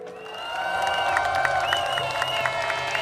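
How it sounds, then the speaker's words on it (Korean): A crowd applauding at a memorial gathering for a victim of the Itaewon disaster, steady clapping with a few shouts over a held tone in the room. "다시 한번 따뜻한 박수 부탁드리겠습니다"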